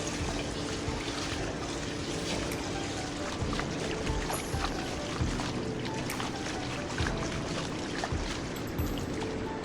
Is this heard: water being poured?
yes